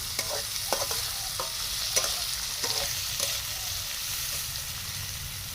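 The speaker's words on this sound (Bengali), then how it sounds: "এবারে চিচিংকে চুরি করানো হয়েছিল সেটা ভেজে নেবো" Snake gourd pieces frying in oil with salt in a pan make a steady, broad sizzle, with a series of light scraping stirs early on, close up and fairly even throughout.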